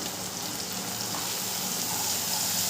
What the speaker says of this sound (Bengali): দিয়ে মশলাটাকে খুব ভালো করে কষিয়ে নেব।